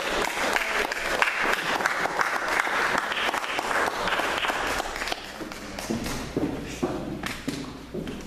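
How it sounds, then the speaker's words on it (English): An audience at a church voter-education forum applauds two debate speakers; loud, continuous, full-room clapping with many overlapping hands, easing slightly toward the end. "Let's give a round of applause to both our impassioned speakers."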